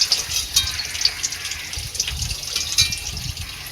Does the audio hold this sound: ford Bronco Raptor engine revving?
no